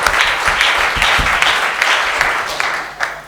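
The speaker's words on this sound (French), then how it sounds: "Clap hands to Jesus. Acclamez pour le Seigneur Jésus." A church congregation applauds Jesus during a testimony service. It is loud, dense clapping from many hands, sustained throughout and close.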